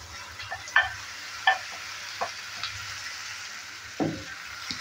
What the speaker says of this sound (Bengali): মেথি শাকটা দেওয়ার পর ভালো করে আবারও নেড়ে চেড়ে নিচ্ছি।